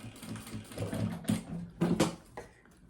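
A sewing machine backstitches while a fabric makeup bag is being sewn. It makes short, quiet bursts of mechanical stitching with soft knocks and clicks close by.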